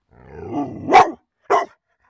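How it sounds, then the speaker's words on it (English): A dog barks twice, close and loud, with a longer growly bark followed by a short sharp one after a brief pause. "What the freak are you barking at, dog?"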